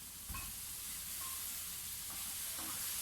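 Brussels sprouts sautéing in a dry pan with no oil, a quiet steady sizzle with occasional stirring scrapes throughout.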